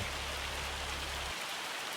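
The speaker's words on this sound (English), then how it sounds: "Raining. Not allowed to be raining." Steady rain falls in the farming game Farming Simulator on the Riverbend Springs map: a soft, even hiss of rainfall with no voices over it.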